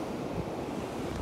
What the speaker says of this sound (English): It's a real overcast day, a real choppy day, and look, real windy.